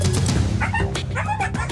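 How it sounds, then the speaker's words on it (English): A rescued dog at an SPCA shelter gives a quick series of close, loud yips and barks mixed with whimpering whines, over a short burst with no talking. "This is a dog, cool dog"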